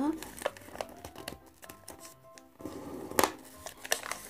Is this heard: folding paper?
yes